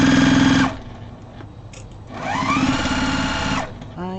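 A sewing machine stitches placemats for an outdoor table in two steady, loud runs of whirring, with a short pause between them and a faint knock at the end.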